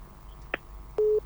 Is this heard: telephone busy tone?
yes